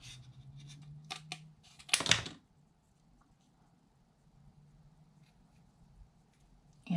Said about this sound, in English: I'm just going to come back with my scissors